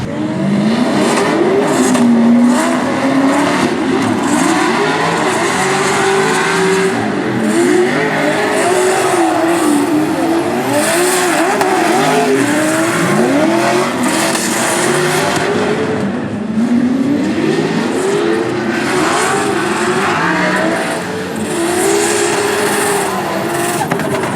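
A Formula Drift race car on a drifting run at the Orlando round roars loudly and continuously, its engine revving hard while the tires squeal through long slides.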